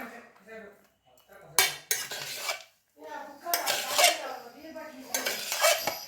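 A utensil scrapes and clinks against a metal pot as thick rice mixed with lemon juice is stirred, in irregular bursts with brief pauses between.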